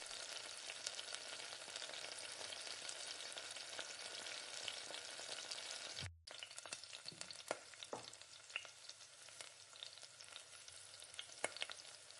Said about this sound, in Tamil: இதை எண்ணெயிலே போட்டு நல்லா அந்த வெங்காயத்தை நல்லா வதக்கி விடுங்க